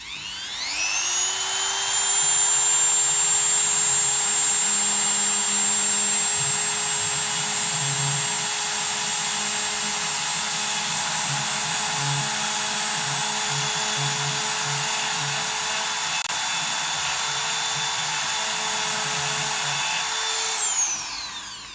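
A Dremel rotary tool grinds down a fishing hook being reworked for a classic salmon fly. It gives a steady, high-pitched whine that holds for about twenty seconds, close and loud, with no talking.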